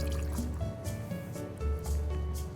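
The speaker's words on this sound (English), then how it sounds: "we're going to do 1 ounce of white whiskey" One ounce of white whiskey poured for a cocktail, a short gurgling trickle of liquid with drips and splashes, close and fairly clear, with some faint background clatter.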